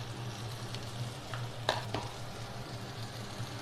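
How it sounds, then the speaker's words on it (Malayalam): Chili powder, black pepper powder, garam masala and ground cumin being sautéed in a pan for chicken sausage curry, a faint steady sizzle with a few soft stirring scrapes, no talk. "ഇതെല്ലാം ചേർത്ത് നന്നായിട്ടൊന്ന് വഴറ്റി കൊടുക്കാം"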